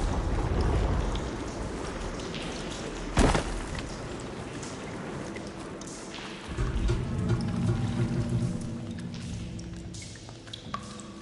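Rushing, splashing water courses through pipes in the video game Horizon Forbidden West, a steady wash with a sharp burst partway through and a deeper surge building in the second half.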